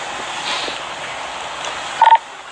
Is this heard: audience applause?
no